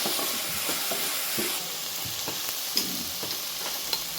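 Turmeric-spiced samosa masala of onions and aromatics stirred gently in a frying pan, a steady sizzle with soft scraping strokes and occasional spoon clicks close by, no talking.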